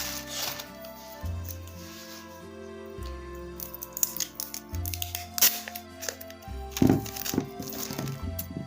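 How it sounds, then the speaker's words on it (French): Transparent adhesive tape is pulled and stuck down in a run of crackling, crinkling rips and taps, close up, with quiet music playing underneath. "je vais mettre du scotch transparent"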